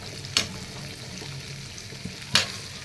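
Bitter gourd pieces frying in oil in a pan, two sharp scraping stirs about two seconds apart over a soft, steady sizzle, close by with no voices.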